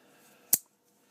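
A single sharp snip from the small spring-loaded scissors of a Leatherman multitool, one brief crisp cut close up in a quiet room with nothing else around it.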